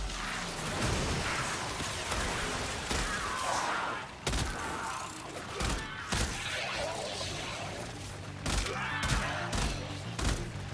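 Gunfire from a gun in the video game Warframe rattles in rapid, dense bursts of shots, loud and continuous, mixed with crashing impacts and whooshing effects.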